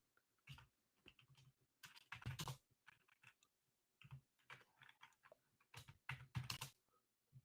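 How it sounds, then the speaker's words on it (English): Someone types on a computer keyboard with quick, close clusters of key clicks separated by short pauses in an otherwise quiet room. "Let's just type it in here."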